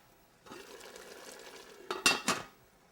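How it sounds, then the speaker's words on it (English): Pork and clams being stirred in a pot with rosemary, a soft scraping stir followed by two sharp clinks of the clam shells against the pot, close and fairly quiet with no talk. "So we'll stir that up"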